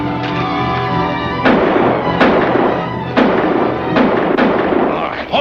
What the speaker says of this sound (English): Stop shooting at shadows before you slaughter each other.